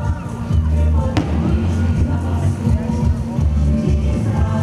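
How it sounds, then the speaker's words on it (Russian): A festive fireworks salute marks the Independence Day celebration in Brest, with a steady rumble of bursts and crackles over an outdoor crowd's murmur, including one sharp bang. "Яркой финальной точкой торжества стал праздничный салют"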